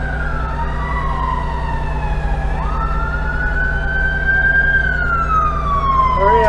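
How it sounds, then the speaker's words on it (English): An emergency siren rises and sweeps loudly as an ambulance arrives past fire trucks downtown, its wailing tone gliding up and down over a steady engine rumble. "Here comes the ambulance."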